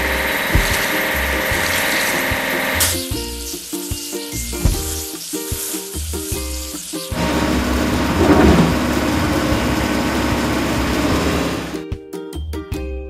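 Cartoonish water spray from a house-building video game's washing step, a loud hissing rush broken by short musical tones and clicks, with game music around it.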